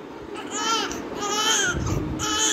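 An infant cries loudly and steadily at home around midday, with wailing rising and falling in strained bursts, alone and close by.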